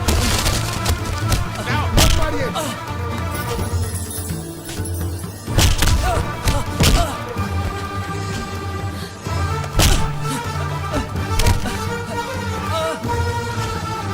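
A thief is beaten up by a group in a fight scene from a Hindi comedy film: loud, repeated thudding blows and sharp impacts land over a dense, busy soundtrack, with strong hits recurring every second or two.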